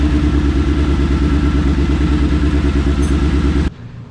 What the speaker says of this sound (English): So the engine works perfectly fine and here's a clip of it running right now.